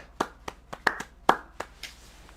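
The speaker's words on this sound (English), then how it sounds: "Let's clap it up for Legend of the Star." A handful of people clapping, sparse and uneven, with sharp claps at irregular intervals rather than a full crowd.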